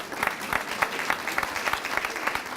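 An audience at a public announcement event in Virginia claps; dense, steady applause with distinct individual hand claps standing out, moderately close and continuing throughout.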